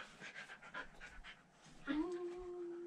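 A dog pants in short, breathy bursts, then gives a drawn-out, high whimpering whine that holds steady toward the end, close and moderately loud.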